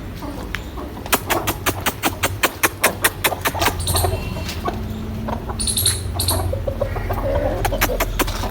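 Aseel chickens cluck and chatter in a barnyard, with a burst of quick repeated clucks early on and scattered higher calls, steady background noise throughout.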